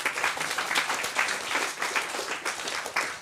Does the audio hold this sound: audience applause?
yes